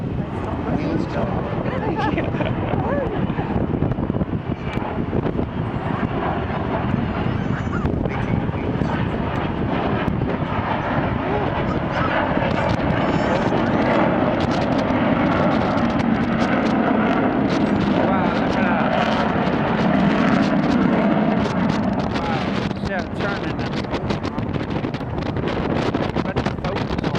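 Fixed-wing aircraft flying past at the Weston-super-Mare seafront air show with wheels down and air brakes up, a steady engine roar swelling as it nears, buffeted by wind noise, with people talking throughout.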